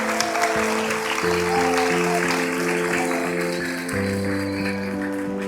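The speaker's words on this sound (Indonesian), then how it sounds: "Tepuk tangan buat kita semua" A crowd claps at a National Santri Day ceremony. The clapping is a steady wash under loud, stepping musical tones that continue throughout, with no clear voices.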